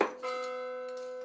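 A church clock bell strikes once in the background, its clear metallic tone ringing on and slowly fading; it sounds faint and distant, with no talking.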